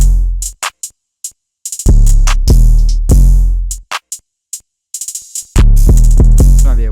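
Deep sliding 808 bass notes of a trap-style beat built in FL Studio, playing alone in loud, punchy bursts with short gaps between hits.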